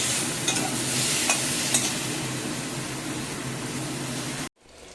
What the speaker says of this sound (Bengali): পটলগুলো এবার ভেজে নিচ্ছি।